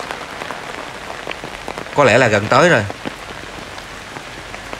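Steady rain patters across a wet cemetery in Vietnam, a continuous close hiss of drops on leaves and ground running throughout, with someone speaking briefly in the middle.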